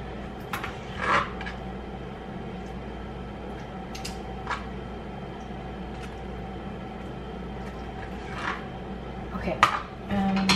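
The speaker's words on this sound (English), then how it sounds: "You guys can't see me cutting this shit." Knife chopping food in a home kitchen while making chicken long rice, a few sparse cuts and taps over a low steady background hum with quiet handling noises.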